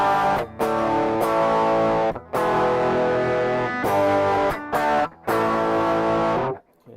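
Electric guitar played through the Scream distortion effect on a BOSS ME-50 multi-effects unit, loud saturated chords held in long ringing bursts separated by short silent breaks, alone with no voices.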